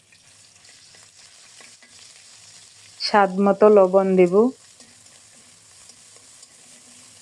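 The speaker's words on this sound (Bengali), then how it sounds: "3-4 মিনিট দাঁড়িয়ে থেকে নেড়ে চেড়ে শুটকিগুলোকে লাল লাল করে ভেজে নিলাম" Dried fish with okra frying in hot oil in a pan and being stirred, a loud burst of sizzle and scraping for about a second and a half between quieter stretches, with a voice speaking briefly.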